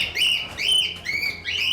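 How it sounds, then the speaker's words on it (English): Birds in Guild Wars 2 chirp in quick, high, bright bursts, several sharp calls repeating every half second or so, loud and close over a faint low background. "I don't think my birds are getting along."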